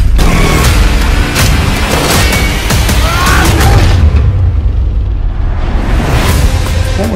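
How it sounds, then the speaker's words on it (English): Loud, dense explosions and rumbling blasts fill an action movie trailer, a continuous roaring boom that swells and then briefly thins before surging again. "As soon as he gets Dmitry, he'll detonate the explosives"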